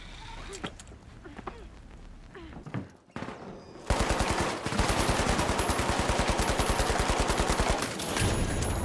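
Rapid turret fire in the shooter game The Finals erupts as a long, dense burst of evenly spaced shots, loud and close, following quieter scattered game sounds and a short lull.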